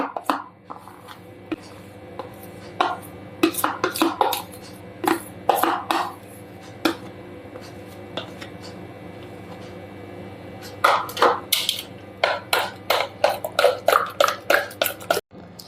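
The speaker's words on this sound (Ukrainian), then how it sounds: "Переміщаємо сюди сметану і додаємо сиру згущенку. І ретельно все перемішуємо." Sour cream and condensed milk being stirred by hand in a deep bowl: bursts of spoon clinks and scrapes against the bowl, pausing then returning in quick rhythmic strokes near the end, no voices.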